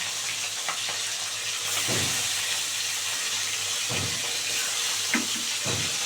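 Tengra fish frying in hot oil gives a loud, continuous crackling sizzle, with sharp pops and spatters breaking through every second or two, heard up close.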